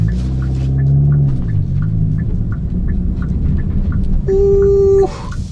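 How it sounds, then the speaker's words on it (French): A Hyundai i20N idles with a low, steady exhaust rumble close by, the engine note dipping and settling, and then a brief tonal electronic chime rises over it near the end. "Oh cet échappement."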